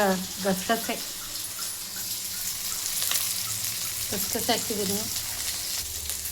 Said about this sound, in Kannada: ಗಸಗಸೆ ಹಾಕಿದ್ದೀನಿ. ಫ್ರೈ ಮಾಡ್ತಿದ್ದೀನಿ.